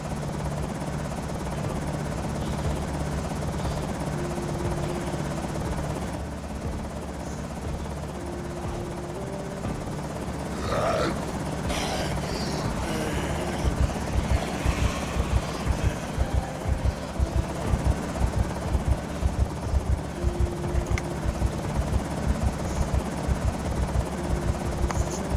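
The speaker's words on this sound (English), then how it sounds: "Helicopter's coming again." A helicopter in a video game approaches with a steady rotor drone that grows into a loud, rhythmic chopping thump in the second half, over background game ambience.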